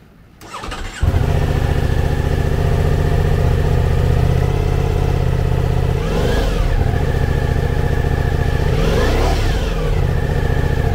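A 2023 Ducati Diavel V4 motorcycle with its 1158cc V4 engine starts up and settles into a loud, close, steady idle, with two brief revs lifting the pitch partway through.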